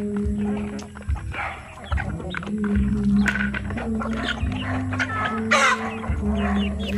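Native chickens on a farm cluck busily and continuously at close range, with overlapping calls from several birds and a louder squawk standing out.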